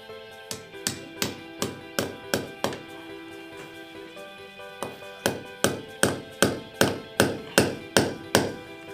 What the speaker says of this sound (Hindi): हथौड़ा